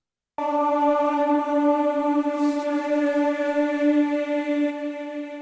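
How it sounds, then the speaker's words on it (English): A synthesized boys' choir sample from Spectrasonics Omnisphere sustains a single bright, monotone vowel tone with slight wavering, alone and steady for about five seconds. "I have a vocal sample from the boys choir from Omnisphere"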